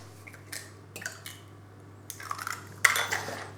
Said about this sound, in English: Now just crack your eggs.